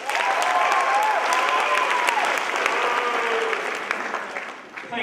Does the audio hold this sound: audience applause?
yes